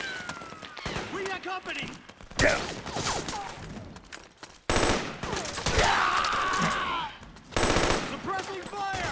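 Bursts of automatic gunfire in a Metal Gear Solid 4 firefight, loud and rapid, with sharp impacts and breaks between volleys while voices shout over the shooting.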